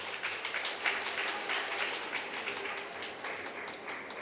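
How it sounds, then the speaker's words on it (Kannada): An audience at a community association's annual general meeting claps together in a dense, steady round of applause that runs throughout at a moderate distance, with no talking over it. "ಜೋರು ಚಪ್ಪಾಳೆ ಕೊಡಲೆ"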